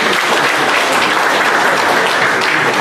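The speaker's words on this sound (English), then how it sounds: "Give him a round of applause." Audience applause for jazz honoree James Clarkson at a Carenage celebration event, loud dense clapping from a large crowd, continuous and uniform throughout.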